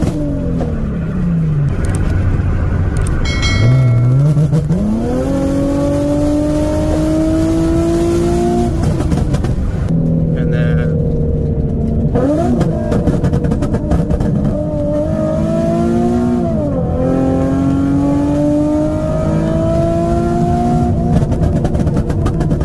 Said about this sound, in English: With the tune, you can actually rev higher.